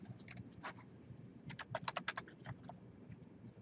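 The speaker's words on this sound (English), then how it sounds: "I type in properties." Short bursts of clicky computer keyboard typing, a few scattered keystrokes then a quick run of taps in the middle, fairly close and quiet, with a faint room hum and no talking.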